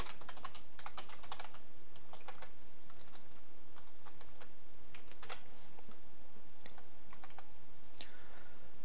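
Programming code is typed on a computer keyboard, close crisp key clicks in quick irregular bursts with short pauses between runs, no voices present.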